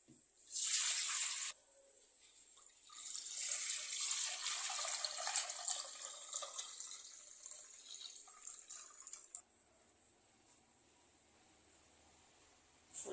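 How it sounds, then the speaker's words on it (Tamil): Rice-washing water poured into clay pots being seasoned in the traditional way, a bright splashing pour in two bursts, the second long and steady, then quiet dripping. "அரிசி கழுவின தண்ணி இதை வந்து நம்ம கொஞ்சம் ஊற்றிக்கலாம் ரெண்டுத்துலேயும் ஃபுல்லாக ஊற்றிக்கலாம்"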